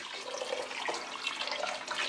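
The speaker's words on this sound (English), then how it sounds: "I've got chicken stock that I'm going in there with now, as well as equal parts water." Chicken stock and an equal amount of water pour steadily into a soup pot, a continuous splashing gush of liquid that stays close and even throughout, with no talking over it.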